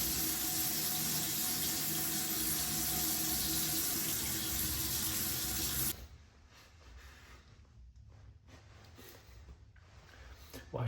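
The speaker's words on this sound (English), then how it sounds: "In the evening, first, you're gonna wash your face." Tap water gushes hard into a sink during a face wash, a loud, continuous splashing rush for about six seconds, then drops to a quieter trickle and splatter.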